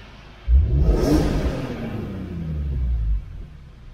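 A BMW E46 M3 with a naturally aspirated engine revs hard once: a sudden loud roar that rises and falls in pitch over about three seconds, then drops back to idle.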